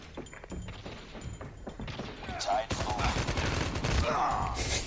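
AK117 rifle fire in the Call of Duty Mobile game, sharp rapid bursts of gunshots crackling through most of the clip, louder in the second half, with game effects mixed in.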